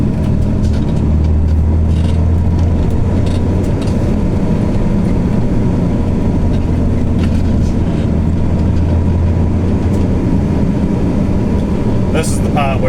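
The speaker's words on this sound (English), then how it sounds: "This is the part where it's nice to have a nice sounding set of Jake brakes, but no, not the Isuzu, just the exhaust brake" An Isuzu truck descending a hill with only its exhaust brake engaged, a loud, steady low engine drone and rumble inside the cab, with a brief rattle near the end.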